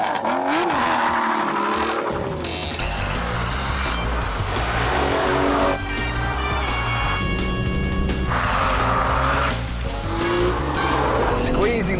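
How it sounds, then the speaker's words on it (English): An Aston Martin V12 Vantage engine starts and revs with a loud, deep roar, then settles into a sustained, rising and falling engine note, with a voice talking over it. "start the engine."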